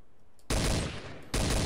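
Sniper rifle shots in the game Garry's Mod TTT, two loud, sharp blasts about a second apart, each with a long booming tail, coming close after a quiet start.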